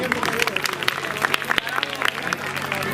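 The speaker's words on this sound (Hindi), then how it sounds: "आप सभी लोगों के लिए जोरदार तालियां इस सम्मान के लिए।" A crowd claps in dense, sustained applause with a murmur of voices mixed in.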